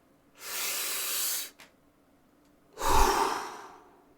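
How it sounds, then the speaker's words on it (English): Two long breaths, a steady airy inhale followed after a pause by a forceful, breathy exhale, close and alone with no talking. "take a deep breath with me, y'all"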